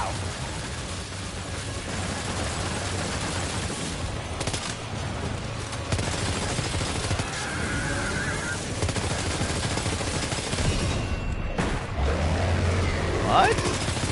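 Gunfire in Death Stranding 2: On the Beach, a dense, continuous clatter of shots and impacts over a thick wash of battle noise lasting the whole stretch, fairly loud and close throughout.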